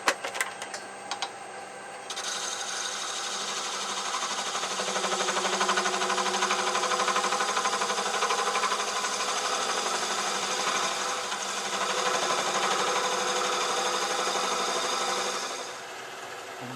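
A metal lathe takes light slicing cuts across a part being tapered down, giving a steady, close, continuous whirring machining drone with a faint high whine that holds for most of the stretch before easing off at the end.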